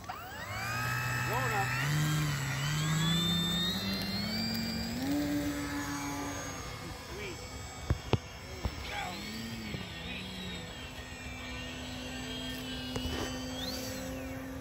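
A Grand Tundra radio-controlled model airplane with a 15x8 prop flies over a park. Its whining engine rises and falls as it passes, with several sharp knocks partway through.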